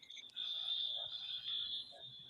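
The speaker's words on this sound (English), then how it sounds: "This is an ear rape fire alarm." A fire alarm gives off a piercing, shrill electronic tone that holds for about two seconds at a steady high pitch, fairly loud above a quiet background.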